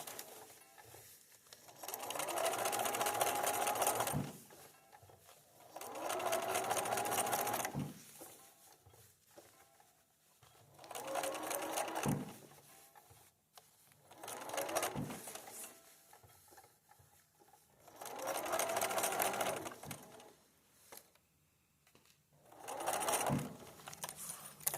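A sewing machine stitches fabric for a quilt, running in bursts of several seconds with a busy rapid mechanical whir, separated by short quiet pauses and soft clicks, close and fairly quiet.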